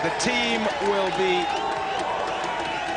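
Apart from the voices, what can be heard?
cricket crowd cheering Sachin Tendulkar's fifty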